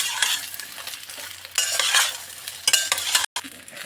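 Jaggery stirred into hot oil for a plum (kul) pickle, with scraping stirs and a soft sizzle in uneven bursts, close and fairly quiet, with a brief dropout near the end.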